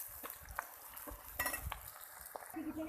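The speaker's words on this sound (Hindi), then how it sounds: "मज़ीद अभी अच्छे से जब तक ब्राउन नहीं होगा तब तक हम इसको फ्राई करेंगे।" Onions fry in a pan for fish korma, with a soft, continuous sizzle under intermittent scraping and clinking as a spoon stirs them, close and fairly quiet.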